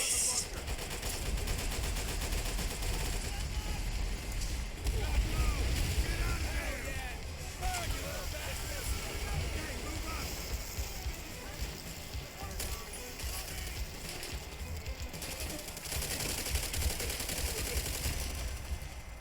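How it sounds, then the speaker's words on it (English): Machine guns fire steadily in a World War II Pacific battle in Call of Duty: World at War. The bursts are continuous and dense, running beneath the noisy game soundscape. "I think those MGs are being operated by the guys from Wanted."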